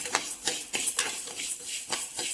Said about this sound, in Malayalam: അപ്പോൾ നമുക്ക് ഈ ചട്ടിയിലോട്ടിട്ട് ഇതങ്ങ് വറക്കാം